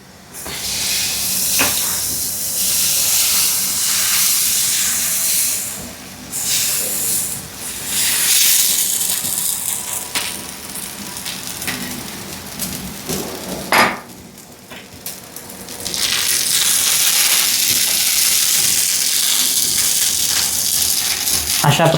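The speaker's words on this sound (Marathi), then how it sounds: "अशा प्रकारे आपण दुसरा डोसा बनायला टाकला आहे तव्यावरती." Dosa batter sizzles on a hot tava griddle in a home kitchen. A loud, steady hiss fills most of the stretch, eases briefly near the middle, then returns at full strength.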